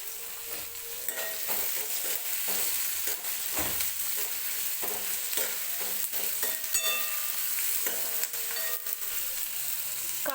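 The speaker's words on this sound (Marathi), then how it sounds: "कांदा भाजतोय" Salted onion fries in oil in a kadhai, a continuous close sizzle with frequent clinks and scrapes of a stirring spoon throughout.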